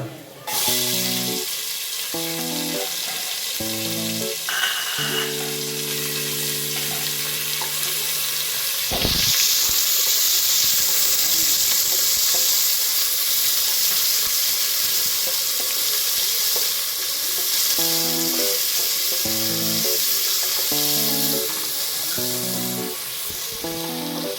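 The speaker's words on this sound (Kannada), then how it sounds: "ಈರುಳ್ಳಿ ಚೆನ್ನಾಗಿ ಫ್ರೈ ಆಗಬೇಕು." Chopped onions fry with garlic in a pan, a loud steady sizzle that swells sharply once they are added and continues close and constant, with stirring and intermittent background music.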